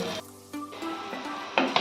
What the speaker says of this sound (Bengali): এবারে এই উল্টো দিকটাও খুব সুন্দর করে ভেজে নেব